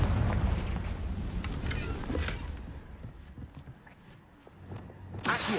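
A Confringo blast spell in Hogwarts Legacy erupts as a loud, dense rumbling explosion that fades over a couple of seconds, with a quieter tail and a second sharp burst near the end.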